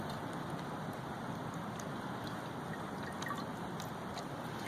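Steady trickling water pouring through a filter into a canteen cup, a continuous soft patter with small drips, fairly faint and unbroken throughout.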